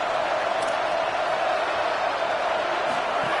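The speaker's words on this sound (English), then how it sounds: "Listen to this crowd just shaking the girders of this place trying to help their defense." A college football video game stadium crowd roars steadily in a broad, sustained wash of noise, loud and far-reaching, with no distinct voices standing out.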